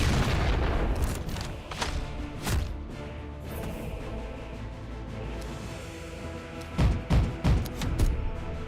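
Autocannon fire in an Astra Militarum Warhammer video game, loud heavy booming shots in scattered bursts with a rumbling tail, the densest cluster near the end.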